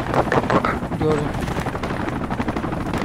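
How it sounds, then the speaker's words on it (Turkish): A helicopter in the military shooter game Project Reality churns steadily under crackling bursts of gunfire, with voices talking over the noise throughout. "Helikopter geri dönüyor, helikopter geri dönüyor."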